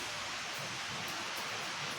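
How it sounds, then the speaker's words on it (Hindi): Heavy rain pours down as a dense, continuous roaring hiss, steady and loud without letup. "देखो कितनी तेज बारिश हो रही है ना।"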